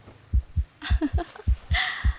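A steady heartbeat sound effect, close and soft, thumping in paired lub-dub beats at an even pace, with a voice briefly murmuring over part of it.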